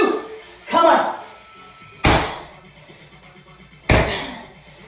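Three heavy slam-ball slams hit the floor during a strength workout, each a loud, sharp thud spaced a second or two apart, with faint talking around the impacts.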